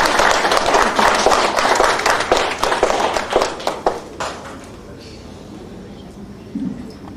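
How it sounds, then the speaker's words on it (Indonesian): An audience applauds at the opening of a calligraphy exhibition, a dense burst of clapping that thins into scattered claps and fades out after about five seconds, with faint voices underneath. "saya minta tepukan yang sangat meriah untuk Ibu Ratih Bandarti."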